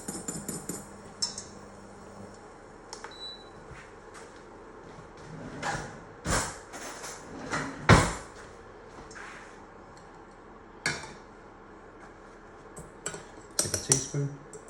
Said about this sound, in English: So I'm going to get a little teaspoon now and then just check the consistency